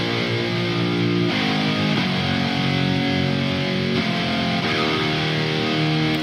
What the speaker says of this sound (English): I want to just hit one button and get a full guitar chord coming out.